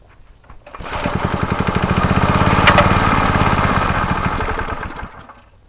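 A repaired lawn edger's small engine fires up and runs steadily for several seconds, with a rapid chugging pulse and bright rattle, loud and close, before cutting off near the end.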